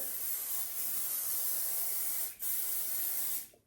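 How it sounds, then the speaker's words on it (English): Hairspray from an aerosol can sprays onto hair in a long continuous hiss, close and loud, broken by one brief pause and then a second burst that cuts off at the end. "I am just like going to town on the hairspray."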